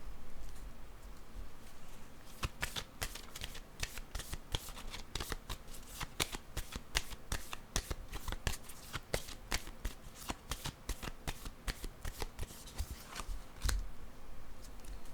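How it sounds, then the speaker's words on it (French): Tarot cards are handled and laid onto a table in quick successive flicks and soft slaps, a dense irregular patter of close, crisp paper sounds with no talking. "Je vais déposer une carte ici"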